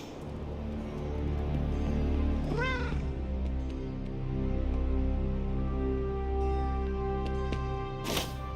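A cat in the video game Marvel's Midnight Suns meows twice, short rising-falling mews heard over steady background music.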